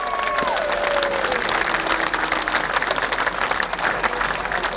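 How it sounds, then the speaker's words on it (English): Sustained applause from a large crowd at a stock car race track, steady and dense throughout, with a faint descending whine and murmuring in the background. "a big round of applause for Don Thunder Turner."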